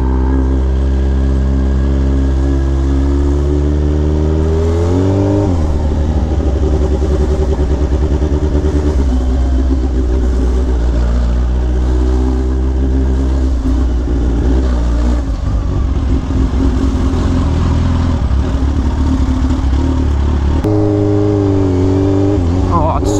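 Hummer H2 driving through city traffic on a drizzly day over a bumpy road, its engine rumbling steadily close by with shifting revs throughout, while people talk inside the vehicle.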